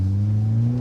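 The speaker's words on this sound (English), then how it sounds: "I can feel that the longer I let the revs go up, the more power there's going to be." The K24 engine in a Honda Accord Type S revs steadily under acceleration, a smooth droning hum with strong low tones that climb gently in pitch, heard from inside the car with no talk.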